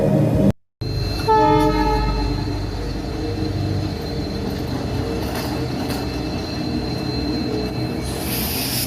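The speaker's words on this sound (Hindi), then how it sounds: "11:30 बज रहे थे जब ट्रेन एक सुनसान स्टेशन पर रुकी।" A train rolls into a deserted station and slows to a halt. A steady rumble of rail cars sits under a sustained tonal horn or squealing brake whine, and a brief dropout near the start breaks the sound.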